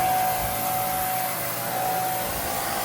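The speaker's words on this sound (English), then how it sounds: "So 2 pressure washers, 2 guys cleaning 2 units at the same time." Steady high-pressure spray from a pressure washer cleaning a dirty split-type air conditioner unit, a continuous loud hissing rush with no pauses and no talking.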